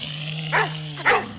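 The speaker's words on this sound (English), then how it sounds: "I'm not getting the dog woof." A recorded dog woof played as a quiz-show buzzer sounds twice in quick succession, two short, clear barks over a steady low electronic hum.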